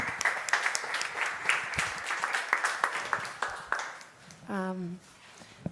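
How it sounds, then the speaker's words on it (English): Lively audience applause with sharp, distinct claps and some cheering, fading toward the end, where a brief tonal voice-like sound rises before the clapping resumes faintly. "An applause, please."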